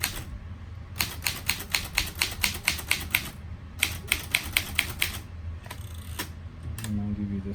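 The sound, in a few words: typing on a 1937 Underwood Champion portable typewriter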